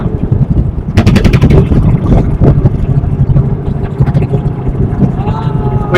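A boat pulls away from a ghat on the Jamuna river. A loud, chugging engine rumble runs throughout, with a quick burst of rapid knocking pulses near the start and wind noise over the microphone.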